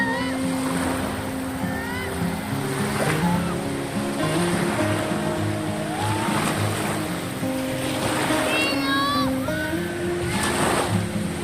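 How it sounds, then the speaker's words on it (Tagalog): Rough sea waves wash and churn steadily throughout, loud and continuous, with children's voices and other chatter mixed over the surf. "Medyo mahalo ng dagat pero ayos lang naman."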